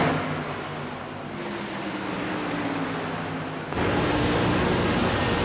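A Silver Crown race car engine heard onboard in iRacing at Dover Motor Speedway, a constant loud buzzing drone that jumps up in volume and roughness partway through.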